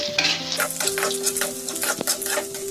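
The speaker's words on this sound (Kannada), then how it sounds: "ಇನ್ನೊಂದು ಐದು ನಿಮಿಷ ಫ್ರೈ ಮಾಡಬೇಕು" Poha chitranna ingredients frying in a pan, a close steady sizzle with the quick rhythmic scrape of a stirring spoon, and one sharp clack near the end.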